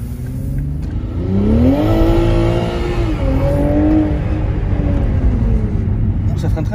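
A Toyota Supra on a drift run, its engine rumbling loud and close with a rising and falling rev pattern as it slows under braking, with people talking over it.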